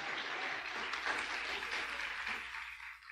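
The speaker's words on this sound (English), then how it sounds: "just give them a big round of applause" A church congregation applauds its leaders during a Sunday service Awana celebration, a soft, steady wash of clapping heard from a distance that fades out at the end.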